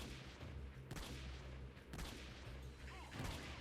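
Gunfire in Freeman Guerrilla Warfare on PC, with three sharp, loud shots spaced about a second apart over a low steady background hum.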